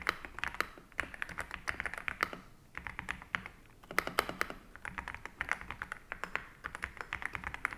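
Rapid clacky keystrokes on a Dareu EK75 Pro mechanical keyboard, close and crisp, in steady bursts with a couple of brief pauses.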